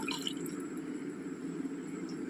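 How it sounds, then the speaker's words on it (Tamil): Water poured into a pan of potato kurma curry, a steady liquid splash and trickle with faint dripping, close and continuous, no voices. "தண்ணி ஊற்றிக்கிறேன்"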